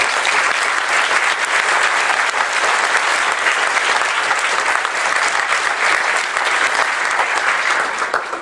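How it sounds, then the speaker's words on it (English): Sustained audience applause at a college arts and sciences senior award ceremony, dense steady clapping from a large crowd filling the whole stretch without a break. "let's give them all a round of applause."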